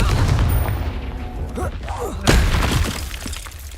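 A Confringo spell explodes in the video game Hogwarts Legacy, a sharp, shattering blast bursting out over a constant rumbling game ambience, with a faint voice nearby.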